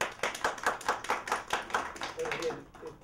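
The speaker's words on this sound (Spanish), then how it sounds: "Un aplauso." Applause for a professor at the close of an academic talk on social and human sciences, a steady patter of clapping hands with a few sharper claps, fading slightly toward the end.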